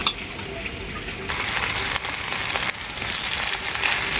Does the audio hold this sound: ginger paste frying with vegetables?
yes